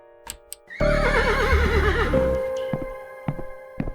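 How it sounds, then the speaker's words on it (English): A horse in the video game Yuppie Psycho gives a loud, wavering whinny lasting over a second, framed by scattered sharp ticks and clicks before and after. "I think Dada is the horse."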